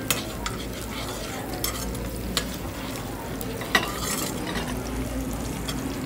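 Olive oil sizzles steadily in a pan, with occasional sharp clicks of a utensil stirring against the pan, loud and close throughout with no voices.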